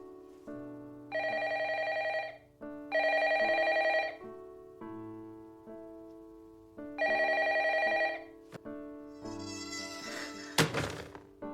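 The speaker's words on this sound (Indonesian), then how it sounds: "Reiko lalu menerima panggilan telepon yang mengeluarkan suara lengkingan" An old-style telephone bell rings in three long bursts separated by pauses, followed by a harsh, shrill screech near the end.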